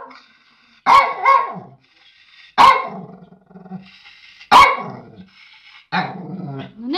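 A dog barks and growls angrily at a bucket in sharp, close bursts, three loud barks roughly two seconds apart followed by a rougher growling yelp at the end.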